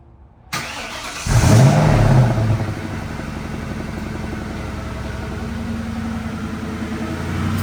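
A low-mileage 1996 Mustang SVT Cobra cold start: a click, the starter cranking briefly, the engine catching with a loud flare, then settling into a steady idle, close and without talk.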